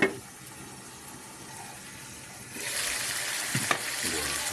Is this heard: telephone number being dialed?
no